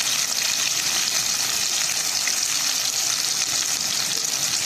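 Onions sizzle and fry in a pan as the base for a potato and carrot curry, a steady dense crackling hiss holding evenly throughout with no pauses, close and fairly loud, no talking.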